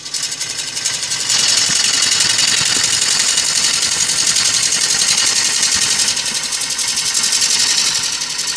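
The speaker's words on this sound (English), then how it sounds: "A couple of minutes on the grinder can save you an awful lot of hassle at the lathe." A bench grinder runs loud and steady as a woodturning gouge is sharpened against the wheel, a continuous high whirring grind that swells after the first second and holds throughout.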